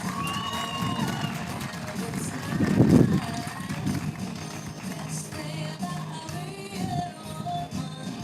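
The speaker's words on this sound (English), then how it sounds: "Let's give these contestants one more big round of applause." Audience at a Rice Festival beauty pageant, crowd cheering and clapping with children shouting, swelling briefly then settling into a busy murmur with voices over it.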